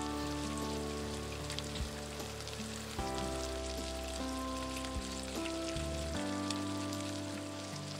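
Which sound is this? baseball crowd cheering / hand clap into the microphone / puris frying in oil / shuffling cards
puris frying in oil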